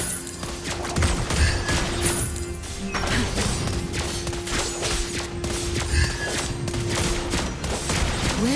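Rapid bursts of gunfire from a video game shooter crackle through a busy battle mix, dense and steady across the whole stretch with a sustained tone running underneath and no talking.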